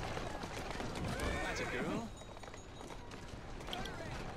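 Horse in Assassin's Creed Syndicate whinnying loudly for about a second, with hooves clopping under game ambience; a voice talks over parts of it.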